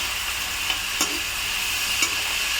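Vegetables sautéing in a pan: an even, dense sizzle runs throughout, with two or three sharp spatula knocks against the pan standing out briefly.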